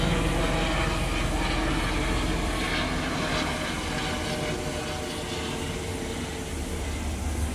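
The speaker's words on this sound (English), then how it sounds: "Oh look, a helicopter. How noisy is that going to be?" Helicopter flying overhead outdoors, a loud continuous rumbling roar that fills the whole stretch and holds steady without fading.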